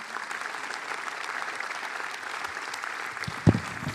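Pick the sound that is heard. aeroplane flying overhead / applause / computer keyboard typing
applause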